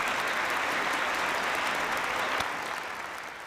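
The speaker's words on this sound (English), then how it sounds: "Let us give another round of applause to Mr. Hwang Yi-sung for his special lecture" Audience applause at the close of a special lecture at an international conference, steady dense clapping throughout that fades slightly near the end.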